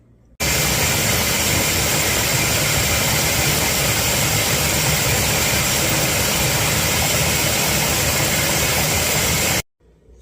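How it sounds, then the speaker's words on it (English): A blender whirls smoked garden peppers into a paste, a loud, steady roar running continuously for about nine seconds before cutting off sharply, close up with no talking. "Got them all in our blender."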